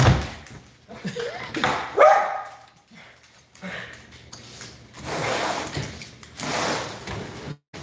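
A dog barks several times in irregular bursts, some sharp and close, with whimpering and rustling in between and a person speaking to it at moments.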